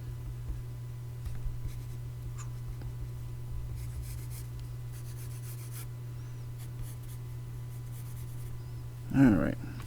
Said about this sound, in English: I'll go ahead and sketch in his bow staff.